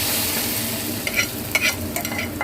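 Hot, sizzling spice tempering is poured into a cooked dish in a home kitchen and stirred, giving a steady frying hiss with a few sharper scraping stir strokes near the end.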